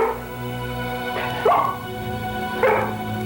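A dog lets out two sharp, loud barks about a second apart over a low constant background hum.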